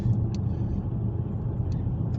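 2021 Dodge Challenger Scat Pack with a 6.4 liter Hemi idling in a steady, low, continuous rumble, moderately quiet with no other sounds.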